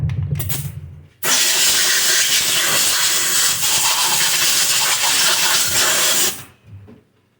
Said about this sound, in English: time to turn the air compressor back on